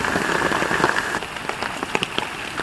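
Rain falls steadily on a garden with flowering and basket plants, a dense continuous patter with scattered louder drips close by, no voices.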